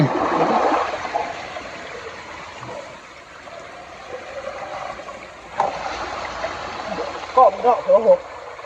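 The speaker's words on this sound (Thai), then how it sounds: "น้ำไหลไหล" Stream water flows steadily while someone catches fish by hand in a rural waterway. A broad, continuous wash is heard, with voices talking over it and a few louder splashes near the end.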